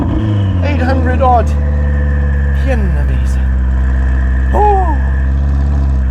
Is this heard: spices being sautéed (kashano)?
no